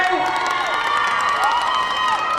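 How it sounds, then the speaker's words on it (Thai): Crowd cheering and applauding at a live event: loud, dense shouting and whooping voices with clapping blended underneath, continuous and close throughout. "ขอเสียงปรบมือหน่อย"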